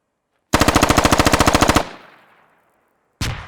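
A rapid, loud burst of automatic machine gun fire of roughly twenty evenly spaced shots in a military video game, with a decaying echo tail and a second short burst starting near the end.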